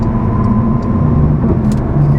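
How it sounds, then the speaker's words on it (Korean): A Porsche 911 Turbo S Cabriolet 992 with sport exhaust engaged cruises at moderate speed on asphalt, producing a continuous, close low engine hum and tire rumble without any breaks. "스포츠 배기 시스템을 켰을 경우에 볼륨이 커지고 소리가 바뀝니다."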